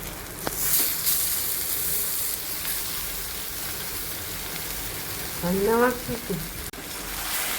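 Raw green mango pieces cooking in a pan with jaggery give a steady close sizzle and hiss with scraping stirs throughout, while a voice briefly sounds near the end.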